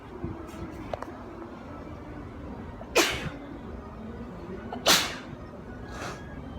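Two sharp sneezes a couple of seconds apart, each a sudden burst against quiet background.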